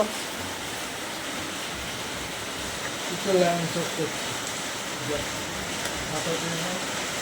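Steady rain falls in a constant hiss throughout, with a brief faint voice partway through.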